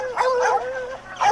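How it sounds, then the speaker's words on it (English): Dogs bark loudly at a mountain lion, several sharp close yaps and whining barks in quick succession. "the dogs that keep harassing it with loud and constant barking"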